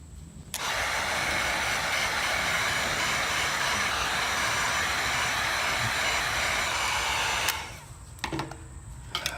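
A heat gun blows hot air onto the old finish of a 1970s Soviet Aelita guitar, giving a steady loud hiss for about seven seconds that starts and cuts off abruptly, followed by a few faint clicks.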